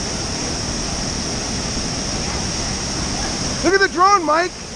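Steady broadband rush of the waterfall at Fossil Creek Falls fills the scene continuously at close range, with a few brief voices breaking in near the end.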